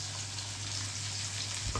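Steady crackling sizzle of capsicum frying in hot oil, close and continuous, with a faint clatter at the end.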